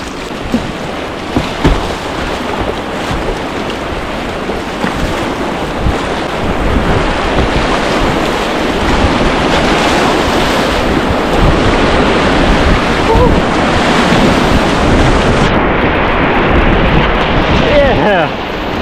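Loud, continuous roar of whitewater rapids on the American River, dense surf-like rushing mixed with wind buffeting the microphone, heard from a kayak in the middle of the flow.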